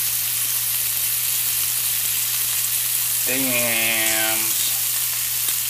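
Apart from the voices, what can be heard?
one-pound steak frying in a pan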